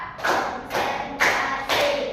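A group of students in a classroom clap in unison, four distinct collective claps spaced evenly about half a second apart, each a broad burst of many hands at moderate loudness with no talk.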